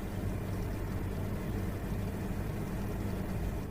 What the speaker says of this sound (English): When you have the air conditioning on and then turn the fan up to 3 or above, you get this weird water trickling sound.